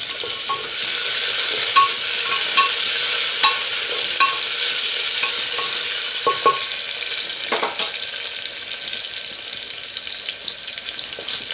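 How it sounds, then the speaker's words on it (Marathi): Onion, green chillies and mixed vegetables stir-fry in a pan, giving a steady sizzle broken by repeated sharp scrapes and taps of the spatula, close up and with no talking. "आता आपण कढीपत्ता टाकून घेऊ आणि हे कांदा आणि सगळं लाल होईपर्यंत परतून घेऊ."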